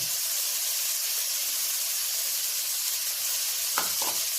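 Cabbage and other vegetables sizzle steadily in a hot pan, a continuous close hiss of frying with a couple of brief stirring scrapes near the end.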